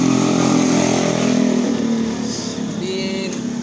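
Steady roar of road traffic beside a meatball food stall in Indonesia, engines revving as vehicles pass nearby, a continuous dense hum of cars and motorbikes without pauses.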